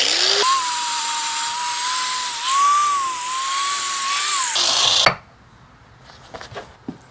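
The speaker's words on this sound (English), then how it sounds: "Now I'm just going to take a flap disc and smooth out my cut and put a little bevel on the edge." A flap disc grinder smooths and bevels the cut end of a steering shaft during a Willys CJ power steering conversion, a loud, close, steady high whine for about five seconds that stops abruptly, leaving a few faint clinks.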